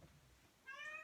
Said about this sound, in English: I think that's my kitty.